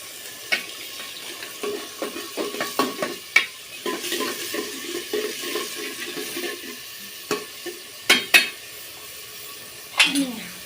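A spoon scrapes and stirs beans with turmeric and salt in a frying pan, scattered clinks and scrapes over a soft sizzle, close by and uneven in rhythm.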